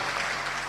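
A church congregation applauds for Jesus, a short dense wash of many hands clapping together at a steady, moderate level.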